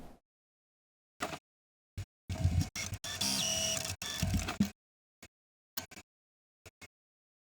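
A sewing machine stitches the side pieces of a child's vintage-style Easter dress in one sustained, close whirring run, framed by short clicks and brief bursts of motor noise with silence between.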